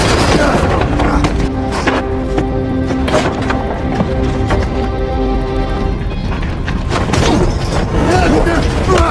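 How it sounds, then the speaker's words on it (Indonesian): Gunfire in a movie shootout between a mafia boss's henchmen and a security guard, sharp loud shots and booms breaking repeatedly through a dense, busy soundtrack over several seconds, with faint voices mixed in. "Thomas yang kini masih berbaku tembak dengan anak buah Cooper"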